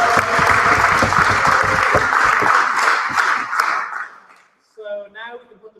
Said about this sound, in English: And I invite everyone to give every speaker one last round of applause.